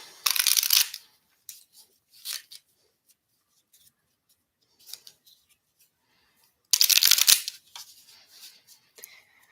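A deck of oracle cards is shuffled in short, crisp riffling bursts, two longer ones near the start and end with brief flicks between, close to the microphone and otherwise quiet.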